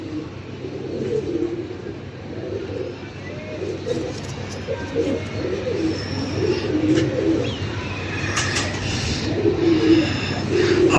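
Pigeons coo repeatedly in soft, throaty bursts at a pigeon-keeping loft in Lahore, close and fairly clear over a low background hum, with people talking nearby.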